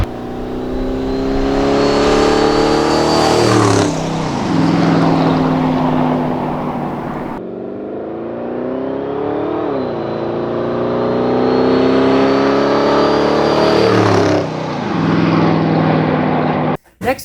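Twin-turbo boosted Ford F-150 pickup with new headers, revving hard and loud up to a screaming high pitch, falling back, then climbing again in two long sustained pulls, close by with no talk over it.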